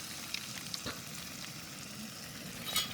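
Masala from a ready-made kothu parotta kit sautéing in a pan, a faint steady sizzle with a couple of soft spoon taps near the end, no voices.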